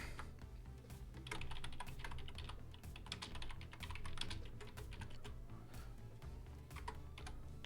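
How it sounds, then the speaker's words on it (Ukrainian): Rapid typing on a computer keyboard, including presses of the Tab key while writing HTML, with steady clusters of key clicks and a low background hum throughout, no speech. "натискаємо на клавіатурі клавішу Tab"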